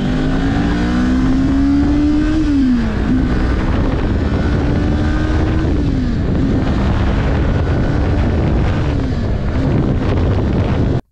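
A 2022 Kawasaki Ninja 400 motorcycle cruising on the highway at speed in fourth gear, its steady engine drone shifting in pitch a few times beneath heavy, constant wind roar.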